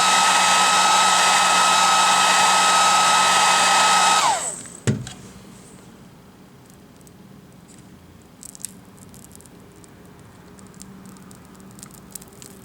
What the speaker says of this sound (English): So this part we're going to have to heat up a little bit.